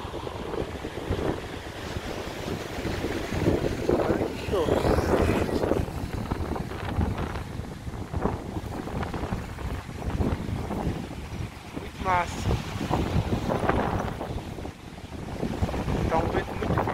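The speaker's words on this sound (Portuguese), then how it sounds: "Tá um vento muito forte aqui." Strong wind buffets the microphone in loud, continuous gusts by the sea in Balneário Camboriú, with surf and boat noise mixed underneath.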